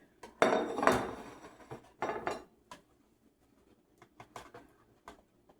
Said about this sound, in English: Let me get a spatula here and pull one of these out.